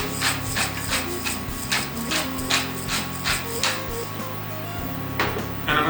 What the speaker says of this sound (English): I'm going to go in with a good heavy grind of fresh cracked black pepper.